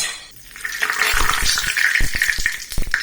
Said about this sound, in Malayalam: ഇതിൽ നമുക്ക് 1/4 കപ്പ് പച്ച നിലക്കടല വറുത്തെടുക്കാം